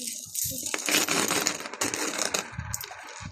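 Loose coins clink and jingle as they are dropped and handled, a dense metallic rattle that runs almost continuously, close and fairly loud, with faint voices underneath.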